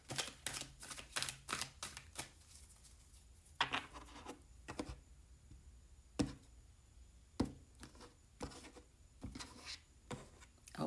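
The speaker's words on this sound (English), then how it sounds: "let's shuffle 3 times and pull 3 cards" Tarot cards are shuffled in a quiet room. Soft, uneven bursts of riffling and slapping come in clusters with short pauses between them, and no one speaks.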